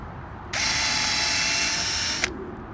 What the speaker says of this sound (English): as we screw it together, it will bring everything nice and tight